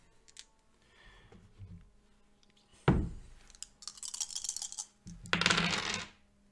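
Dice for a tabletop role-playing game clatter onto a surface in a few separate bursts, sharp rattling tumbles with a faint scuffle between, close and fairly quiet, with no talk.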